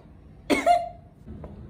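A single short, sharp cough sounds close by, followed by a faint trailing tone and then quiet room noise.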